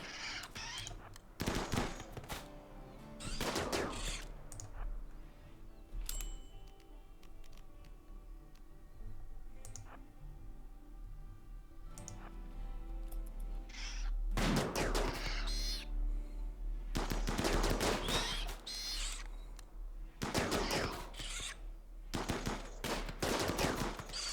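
Charge rifle gunfire in the RimWorld video game desert base, bursts of rapid sharp shots in several loud clusters with pauses between them, near and dense, with no talking.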